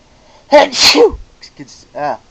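One loud, close sneeze with a sharp explosive burst, followed by a brief voice afterward.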